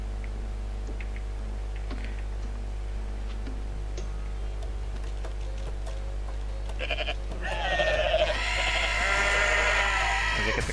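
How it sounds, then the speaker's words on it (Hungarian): Goats bleating in the video game Goat Simulator, a dense burst of repeated bleats rising over a steady low hum in the second half, fairly loud and close. "Ezeket a kecskéket kell összeszedni."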